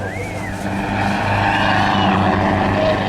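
A display aircraft performs aerobatics at the Southport Air Show 2017, its engine droning loudly and steadily with a rising, sweeping pitch, while a commentator talks over it.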